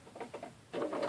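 A sewing machine runs a few short stitches into fabric, giving a quiet burst of soft rhythmic clatter that pauses briefly and then returns as a steadier, slightly louder whir nearby.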